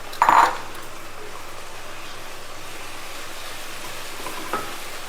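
A utensil clinks sharply against a pan once at the start while fried cauliflower is stirred into sauce, followed by a quiet, faint stirring hiss with a soft scrape near the end.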